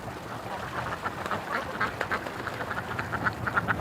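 Several ducks quack repeatedly at close range, their calls overlapping in a busy, chattering stream against faint background noise.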